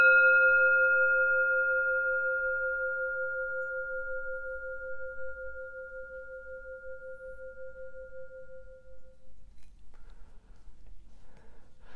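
A medium Tibetan singing bowl about 17 cm across rings alone after a strike, a sustained clear tone with a few overtones that slowly fades over about ten seconds before faint rustling takes over.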